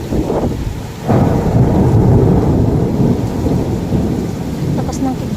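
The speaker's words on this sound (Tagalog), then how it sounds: "Lakas ng kidlat." Heavy thunder rumbles continuously through a strong storm in Qatar, with loud rain and wind filling the background and no voices.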